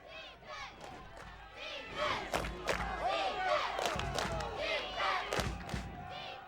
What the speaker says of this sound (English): the BV crowd chanting defense, trying to get this defense riled up on a 3rd and 9 here